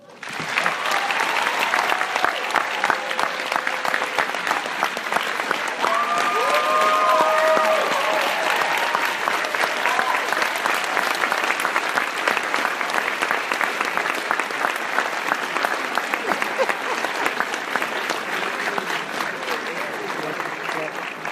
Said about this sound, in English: Another round of applause for our guest, Common.